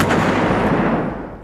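Heavy 30mm cannon fire from a Stryker armored vehicle, a loud, close burst of booming reports that rolls on continuously for the whole moment with no pauses or voices.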